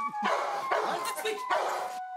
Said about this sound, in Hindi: बेटा इस कुत्ते से बचाओ।